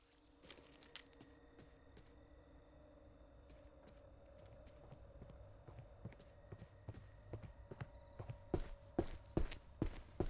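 A nun's footsteps in the horror game Evil Nun: The Broken Mask, quiet rapid thuds that speed up and grow louder as she runs closer, over faint steady background tones.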